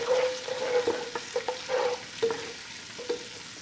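Ground spices with ginger, garlic and a splash of water are stirred in a pan for lau with mung dal, as irregular spoon scrapes and a faint squeak ride over a gentle sizzle, close and moderately quiet.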